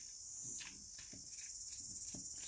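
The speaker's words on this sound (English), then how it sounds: "Cicadas in the background, they're quite loud." Cicadas drone loudly in an outdoor garden setting, a steady high-pitched buzz with soft pulsing bursts repeating about every half second, with no voices present.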